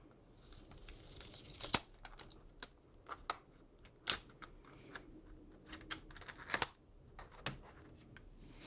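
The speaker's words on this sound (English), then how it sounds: "it looks like I can remove the plastic sticker." A plastic sticker is peeled from a passport holder, giving a quiet crackly tearing burst near the start, then scattered soft clicks and crinkles, close up with no talking.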